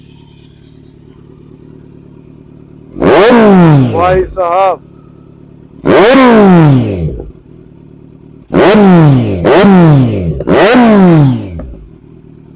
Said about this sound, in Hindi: एक बार रैप करके और सुनाते हैं आपको कैसी साउंड आती है।